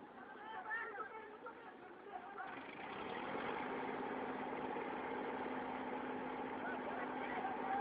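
A tractor engine idles with a steady low rumble and drone, starting a few seconds in. People chatter over it and before it.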